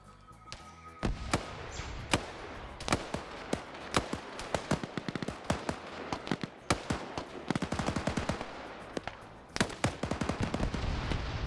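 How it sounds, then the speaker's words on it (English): Mines detonating in a military defensive operation video game, a rapid series of sharp explosive cracks and bangs, many per second in bursts, loud and close, with no talk. "we just had more mines go off"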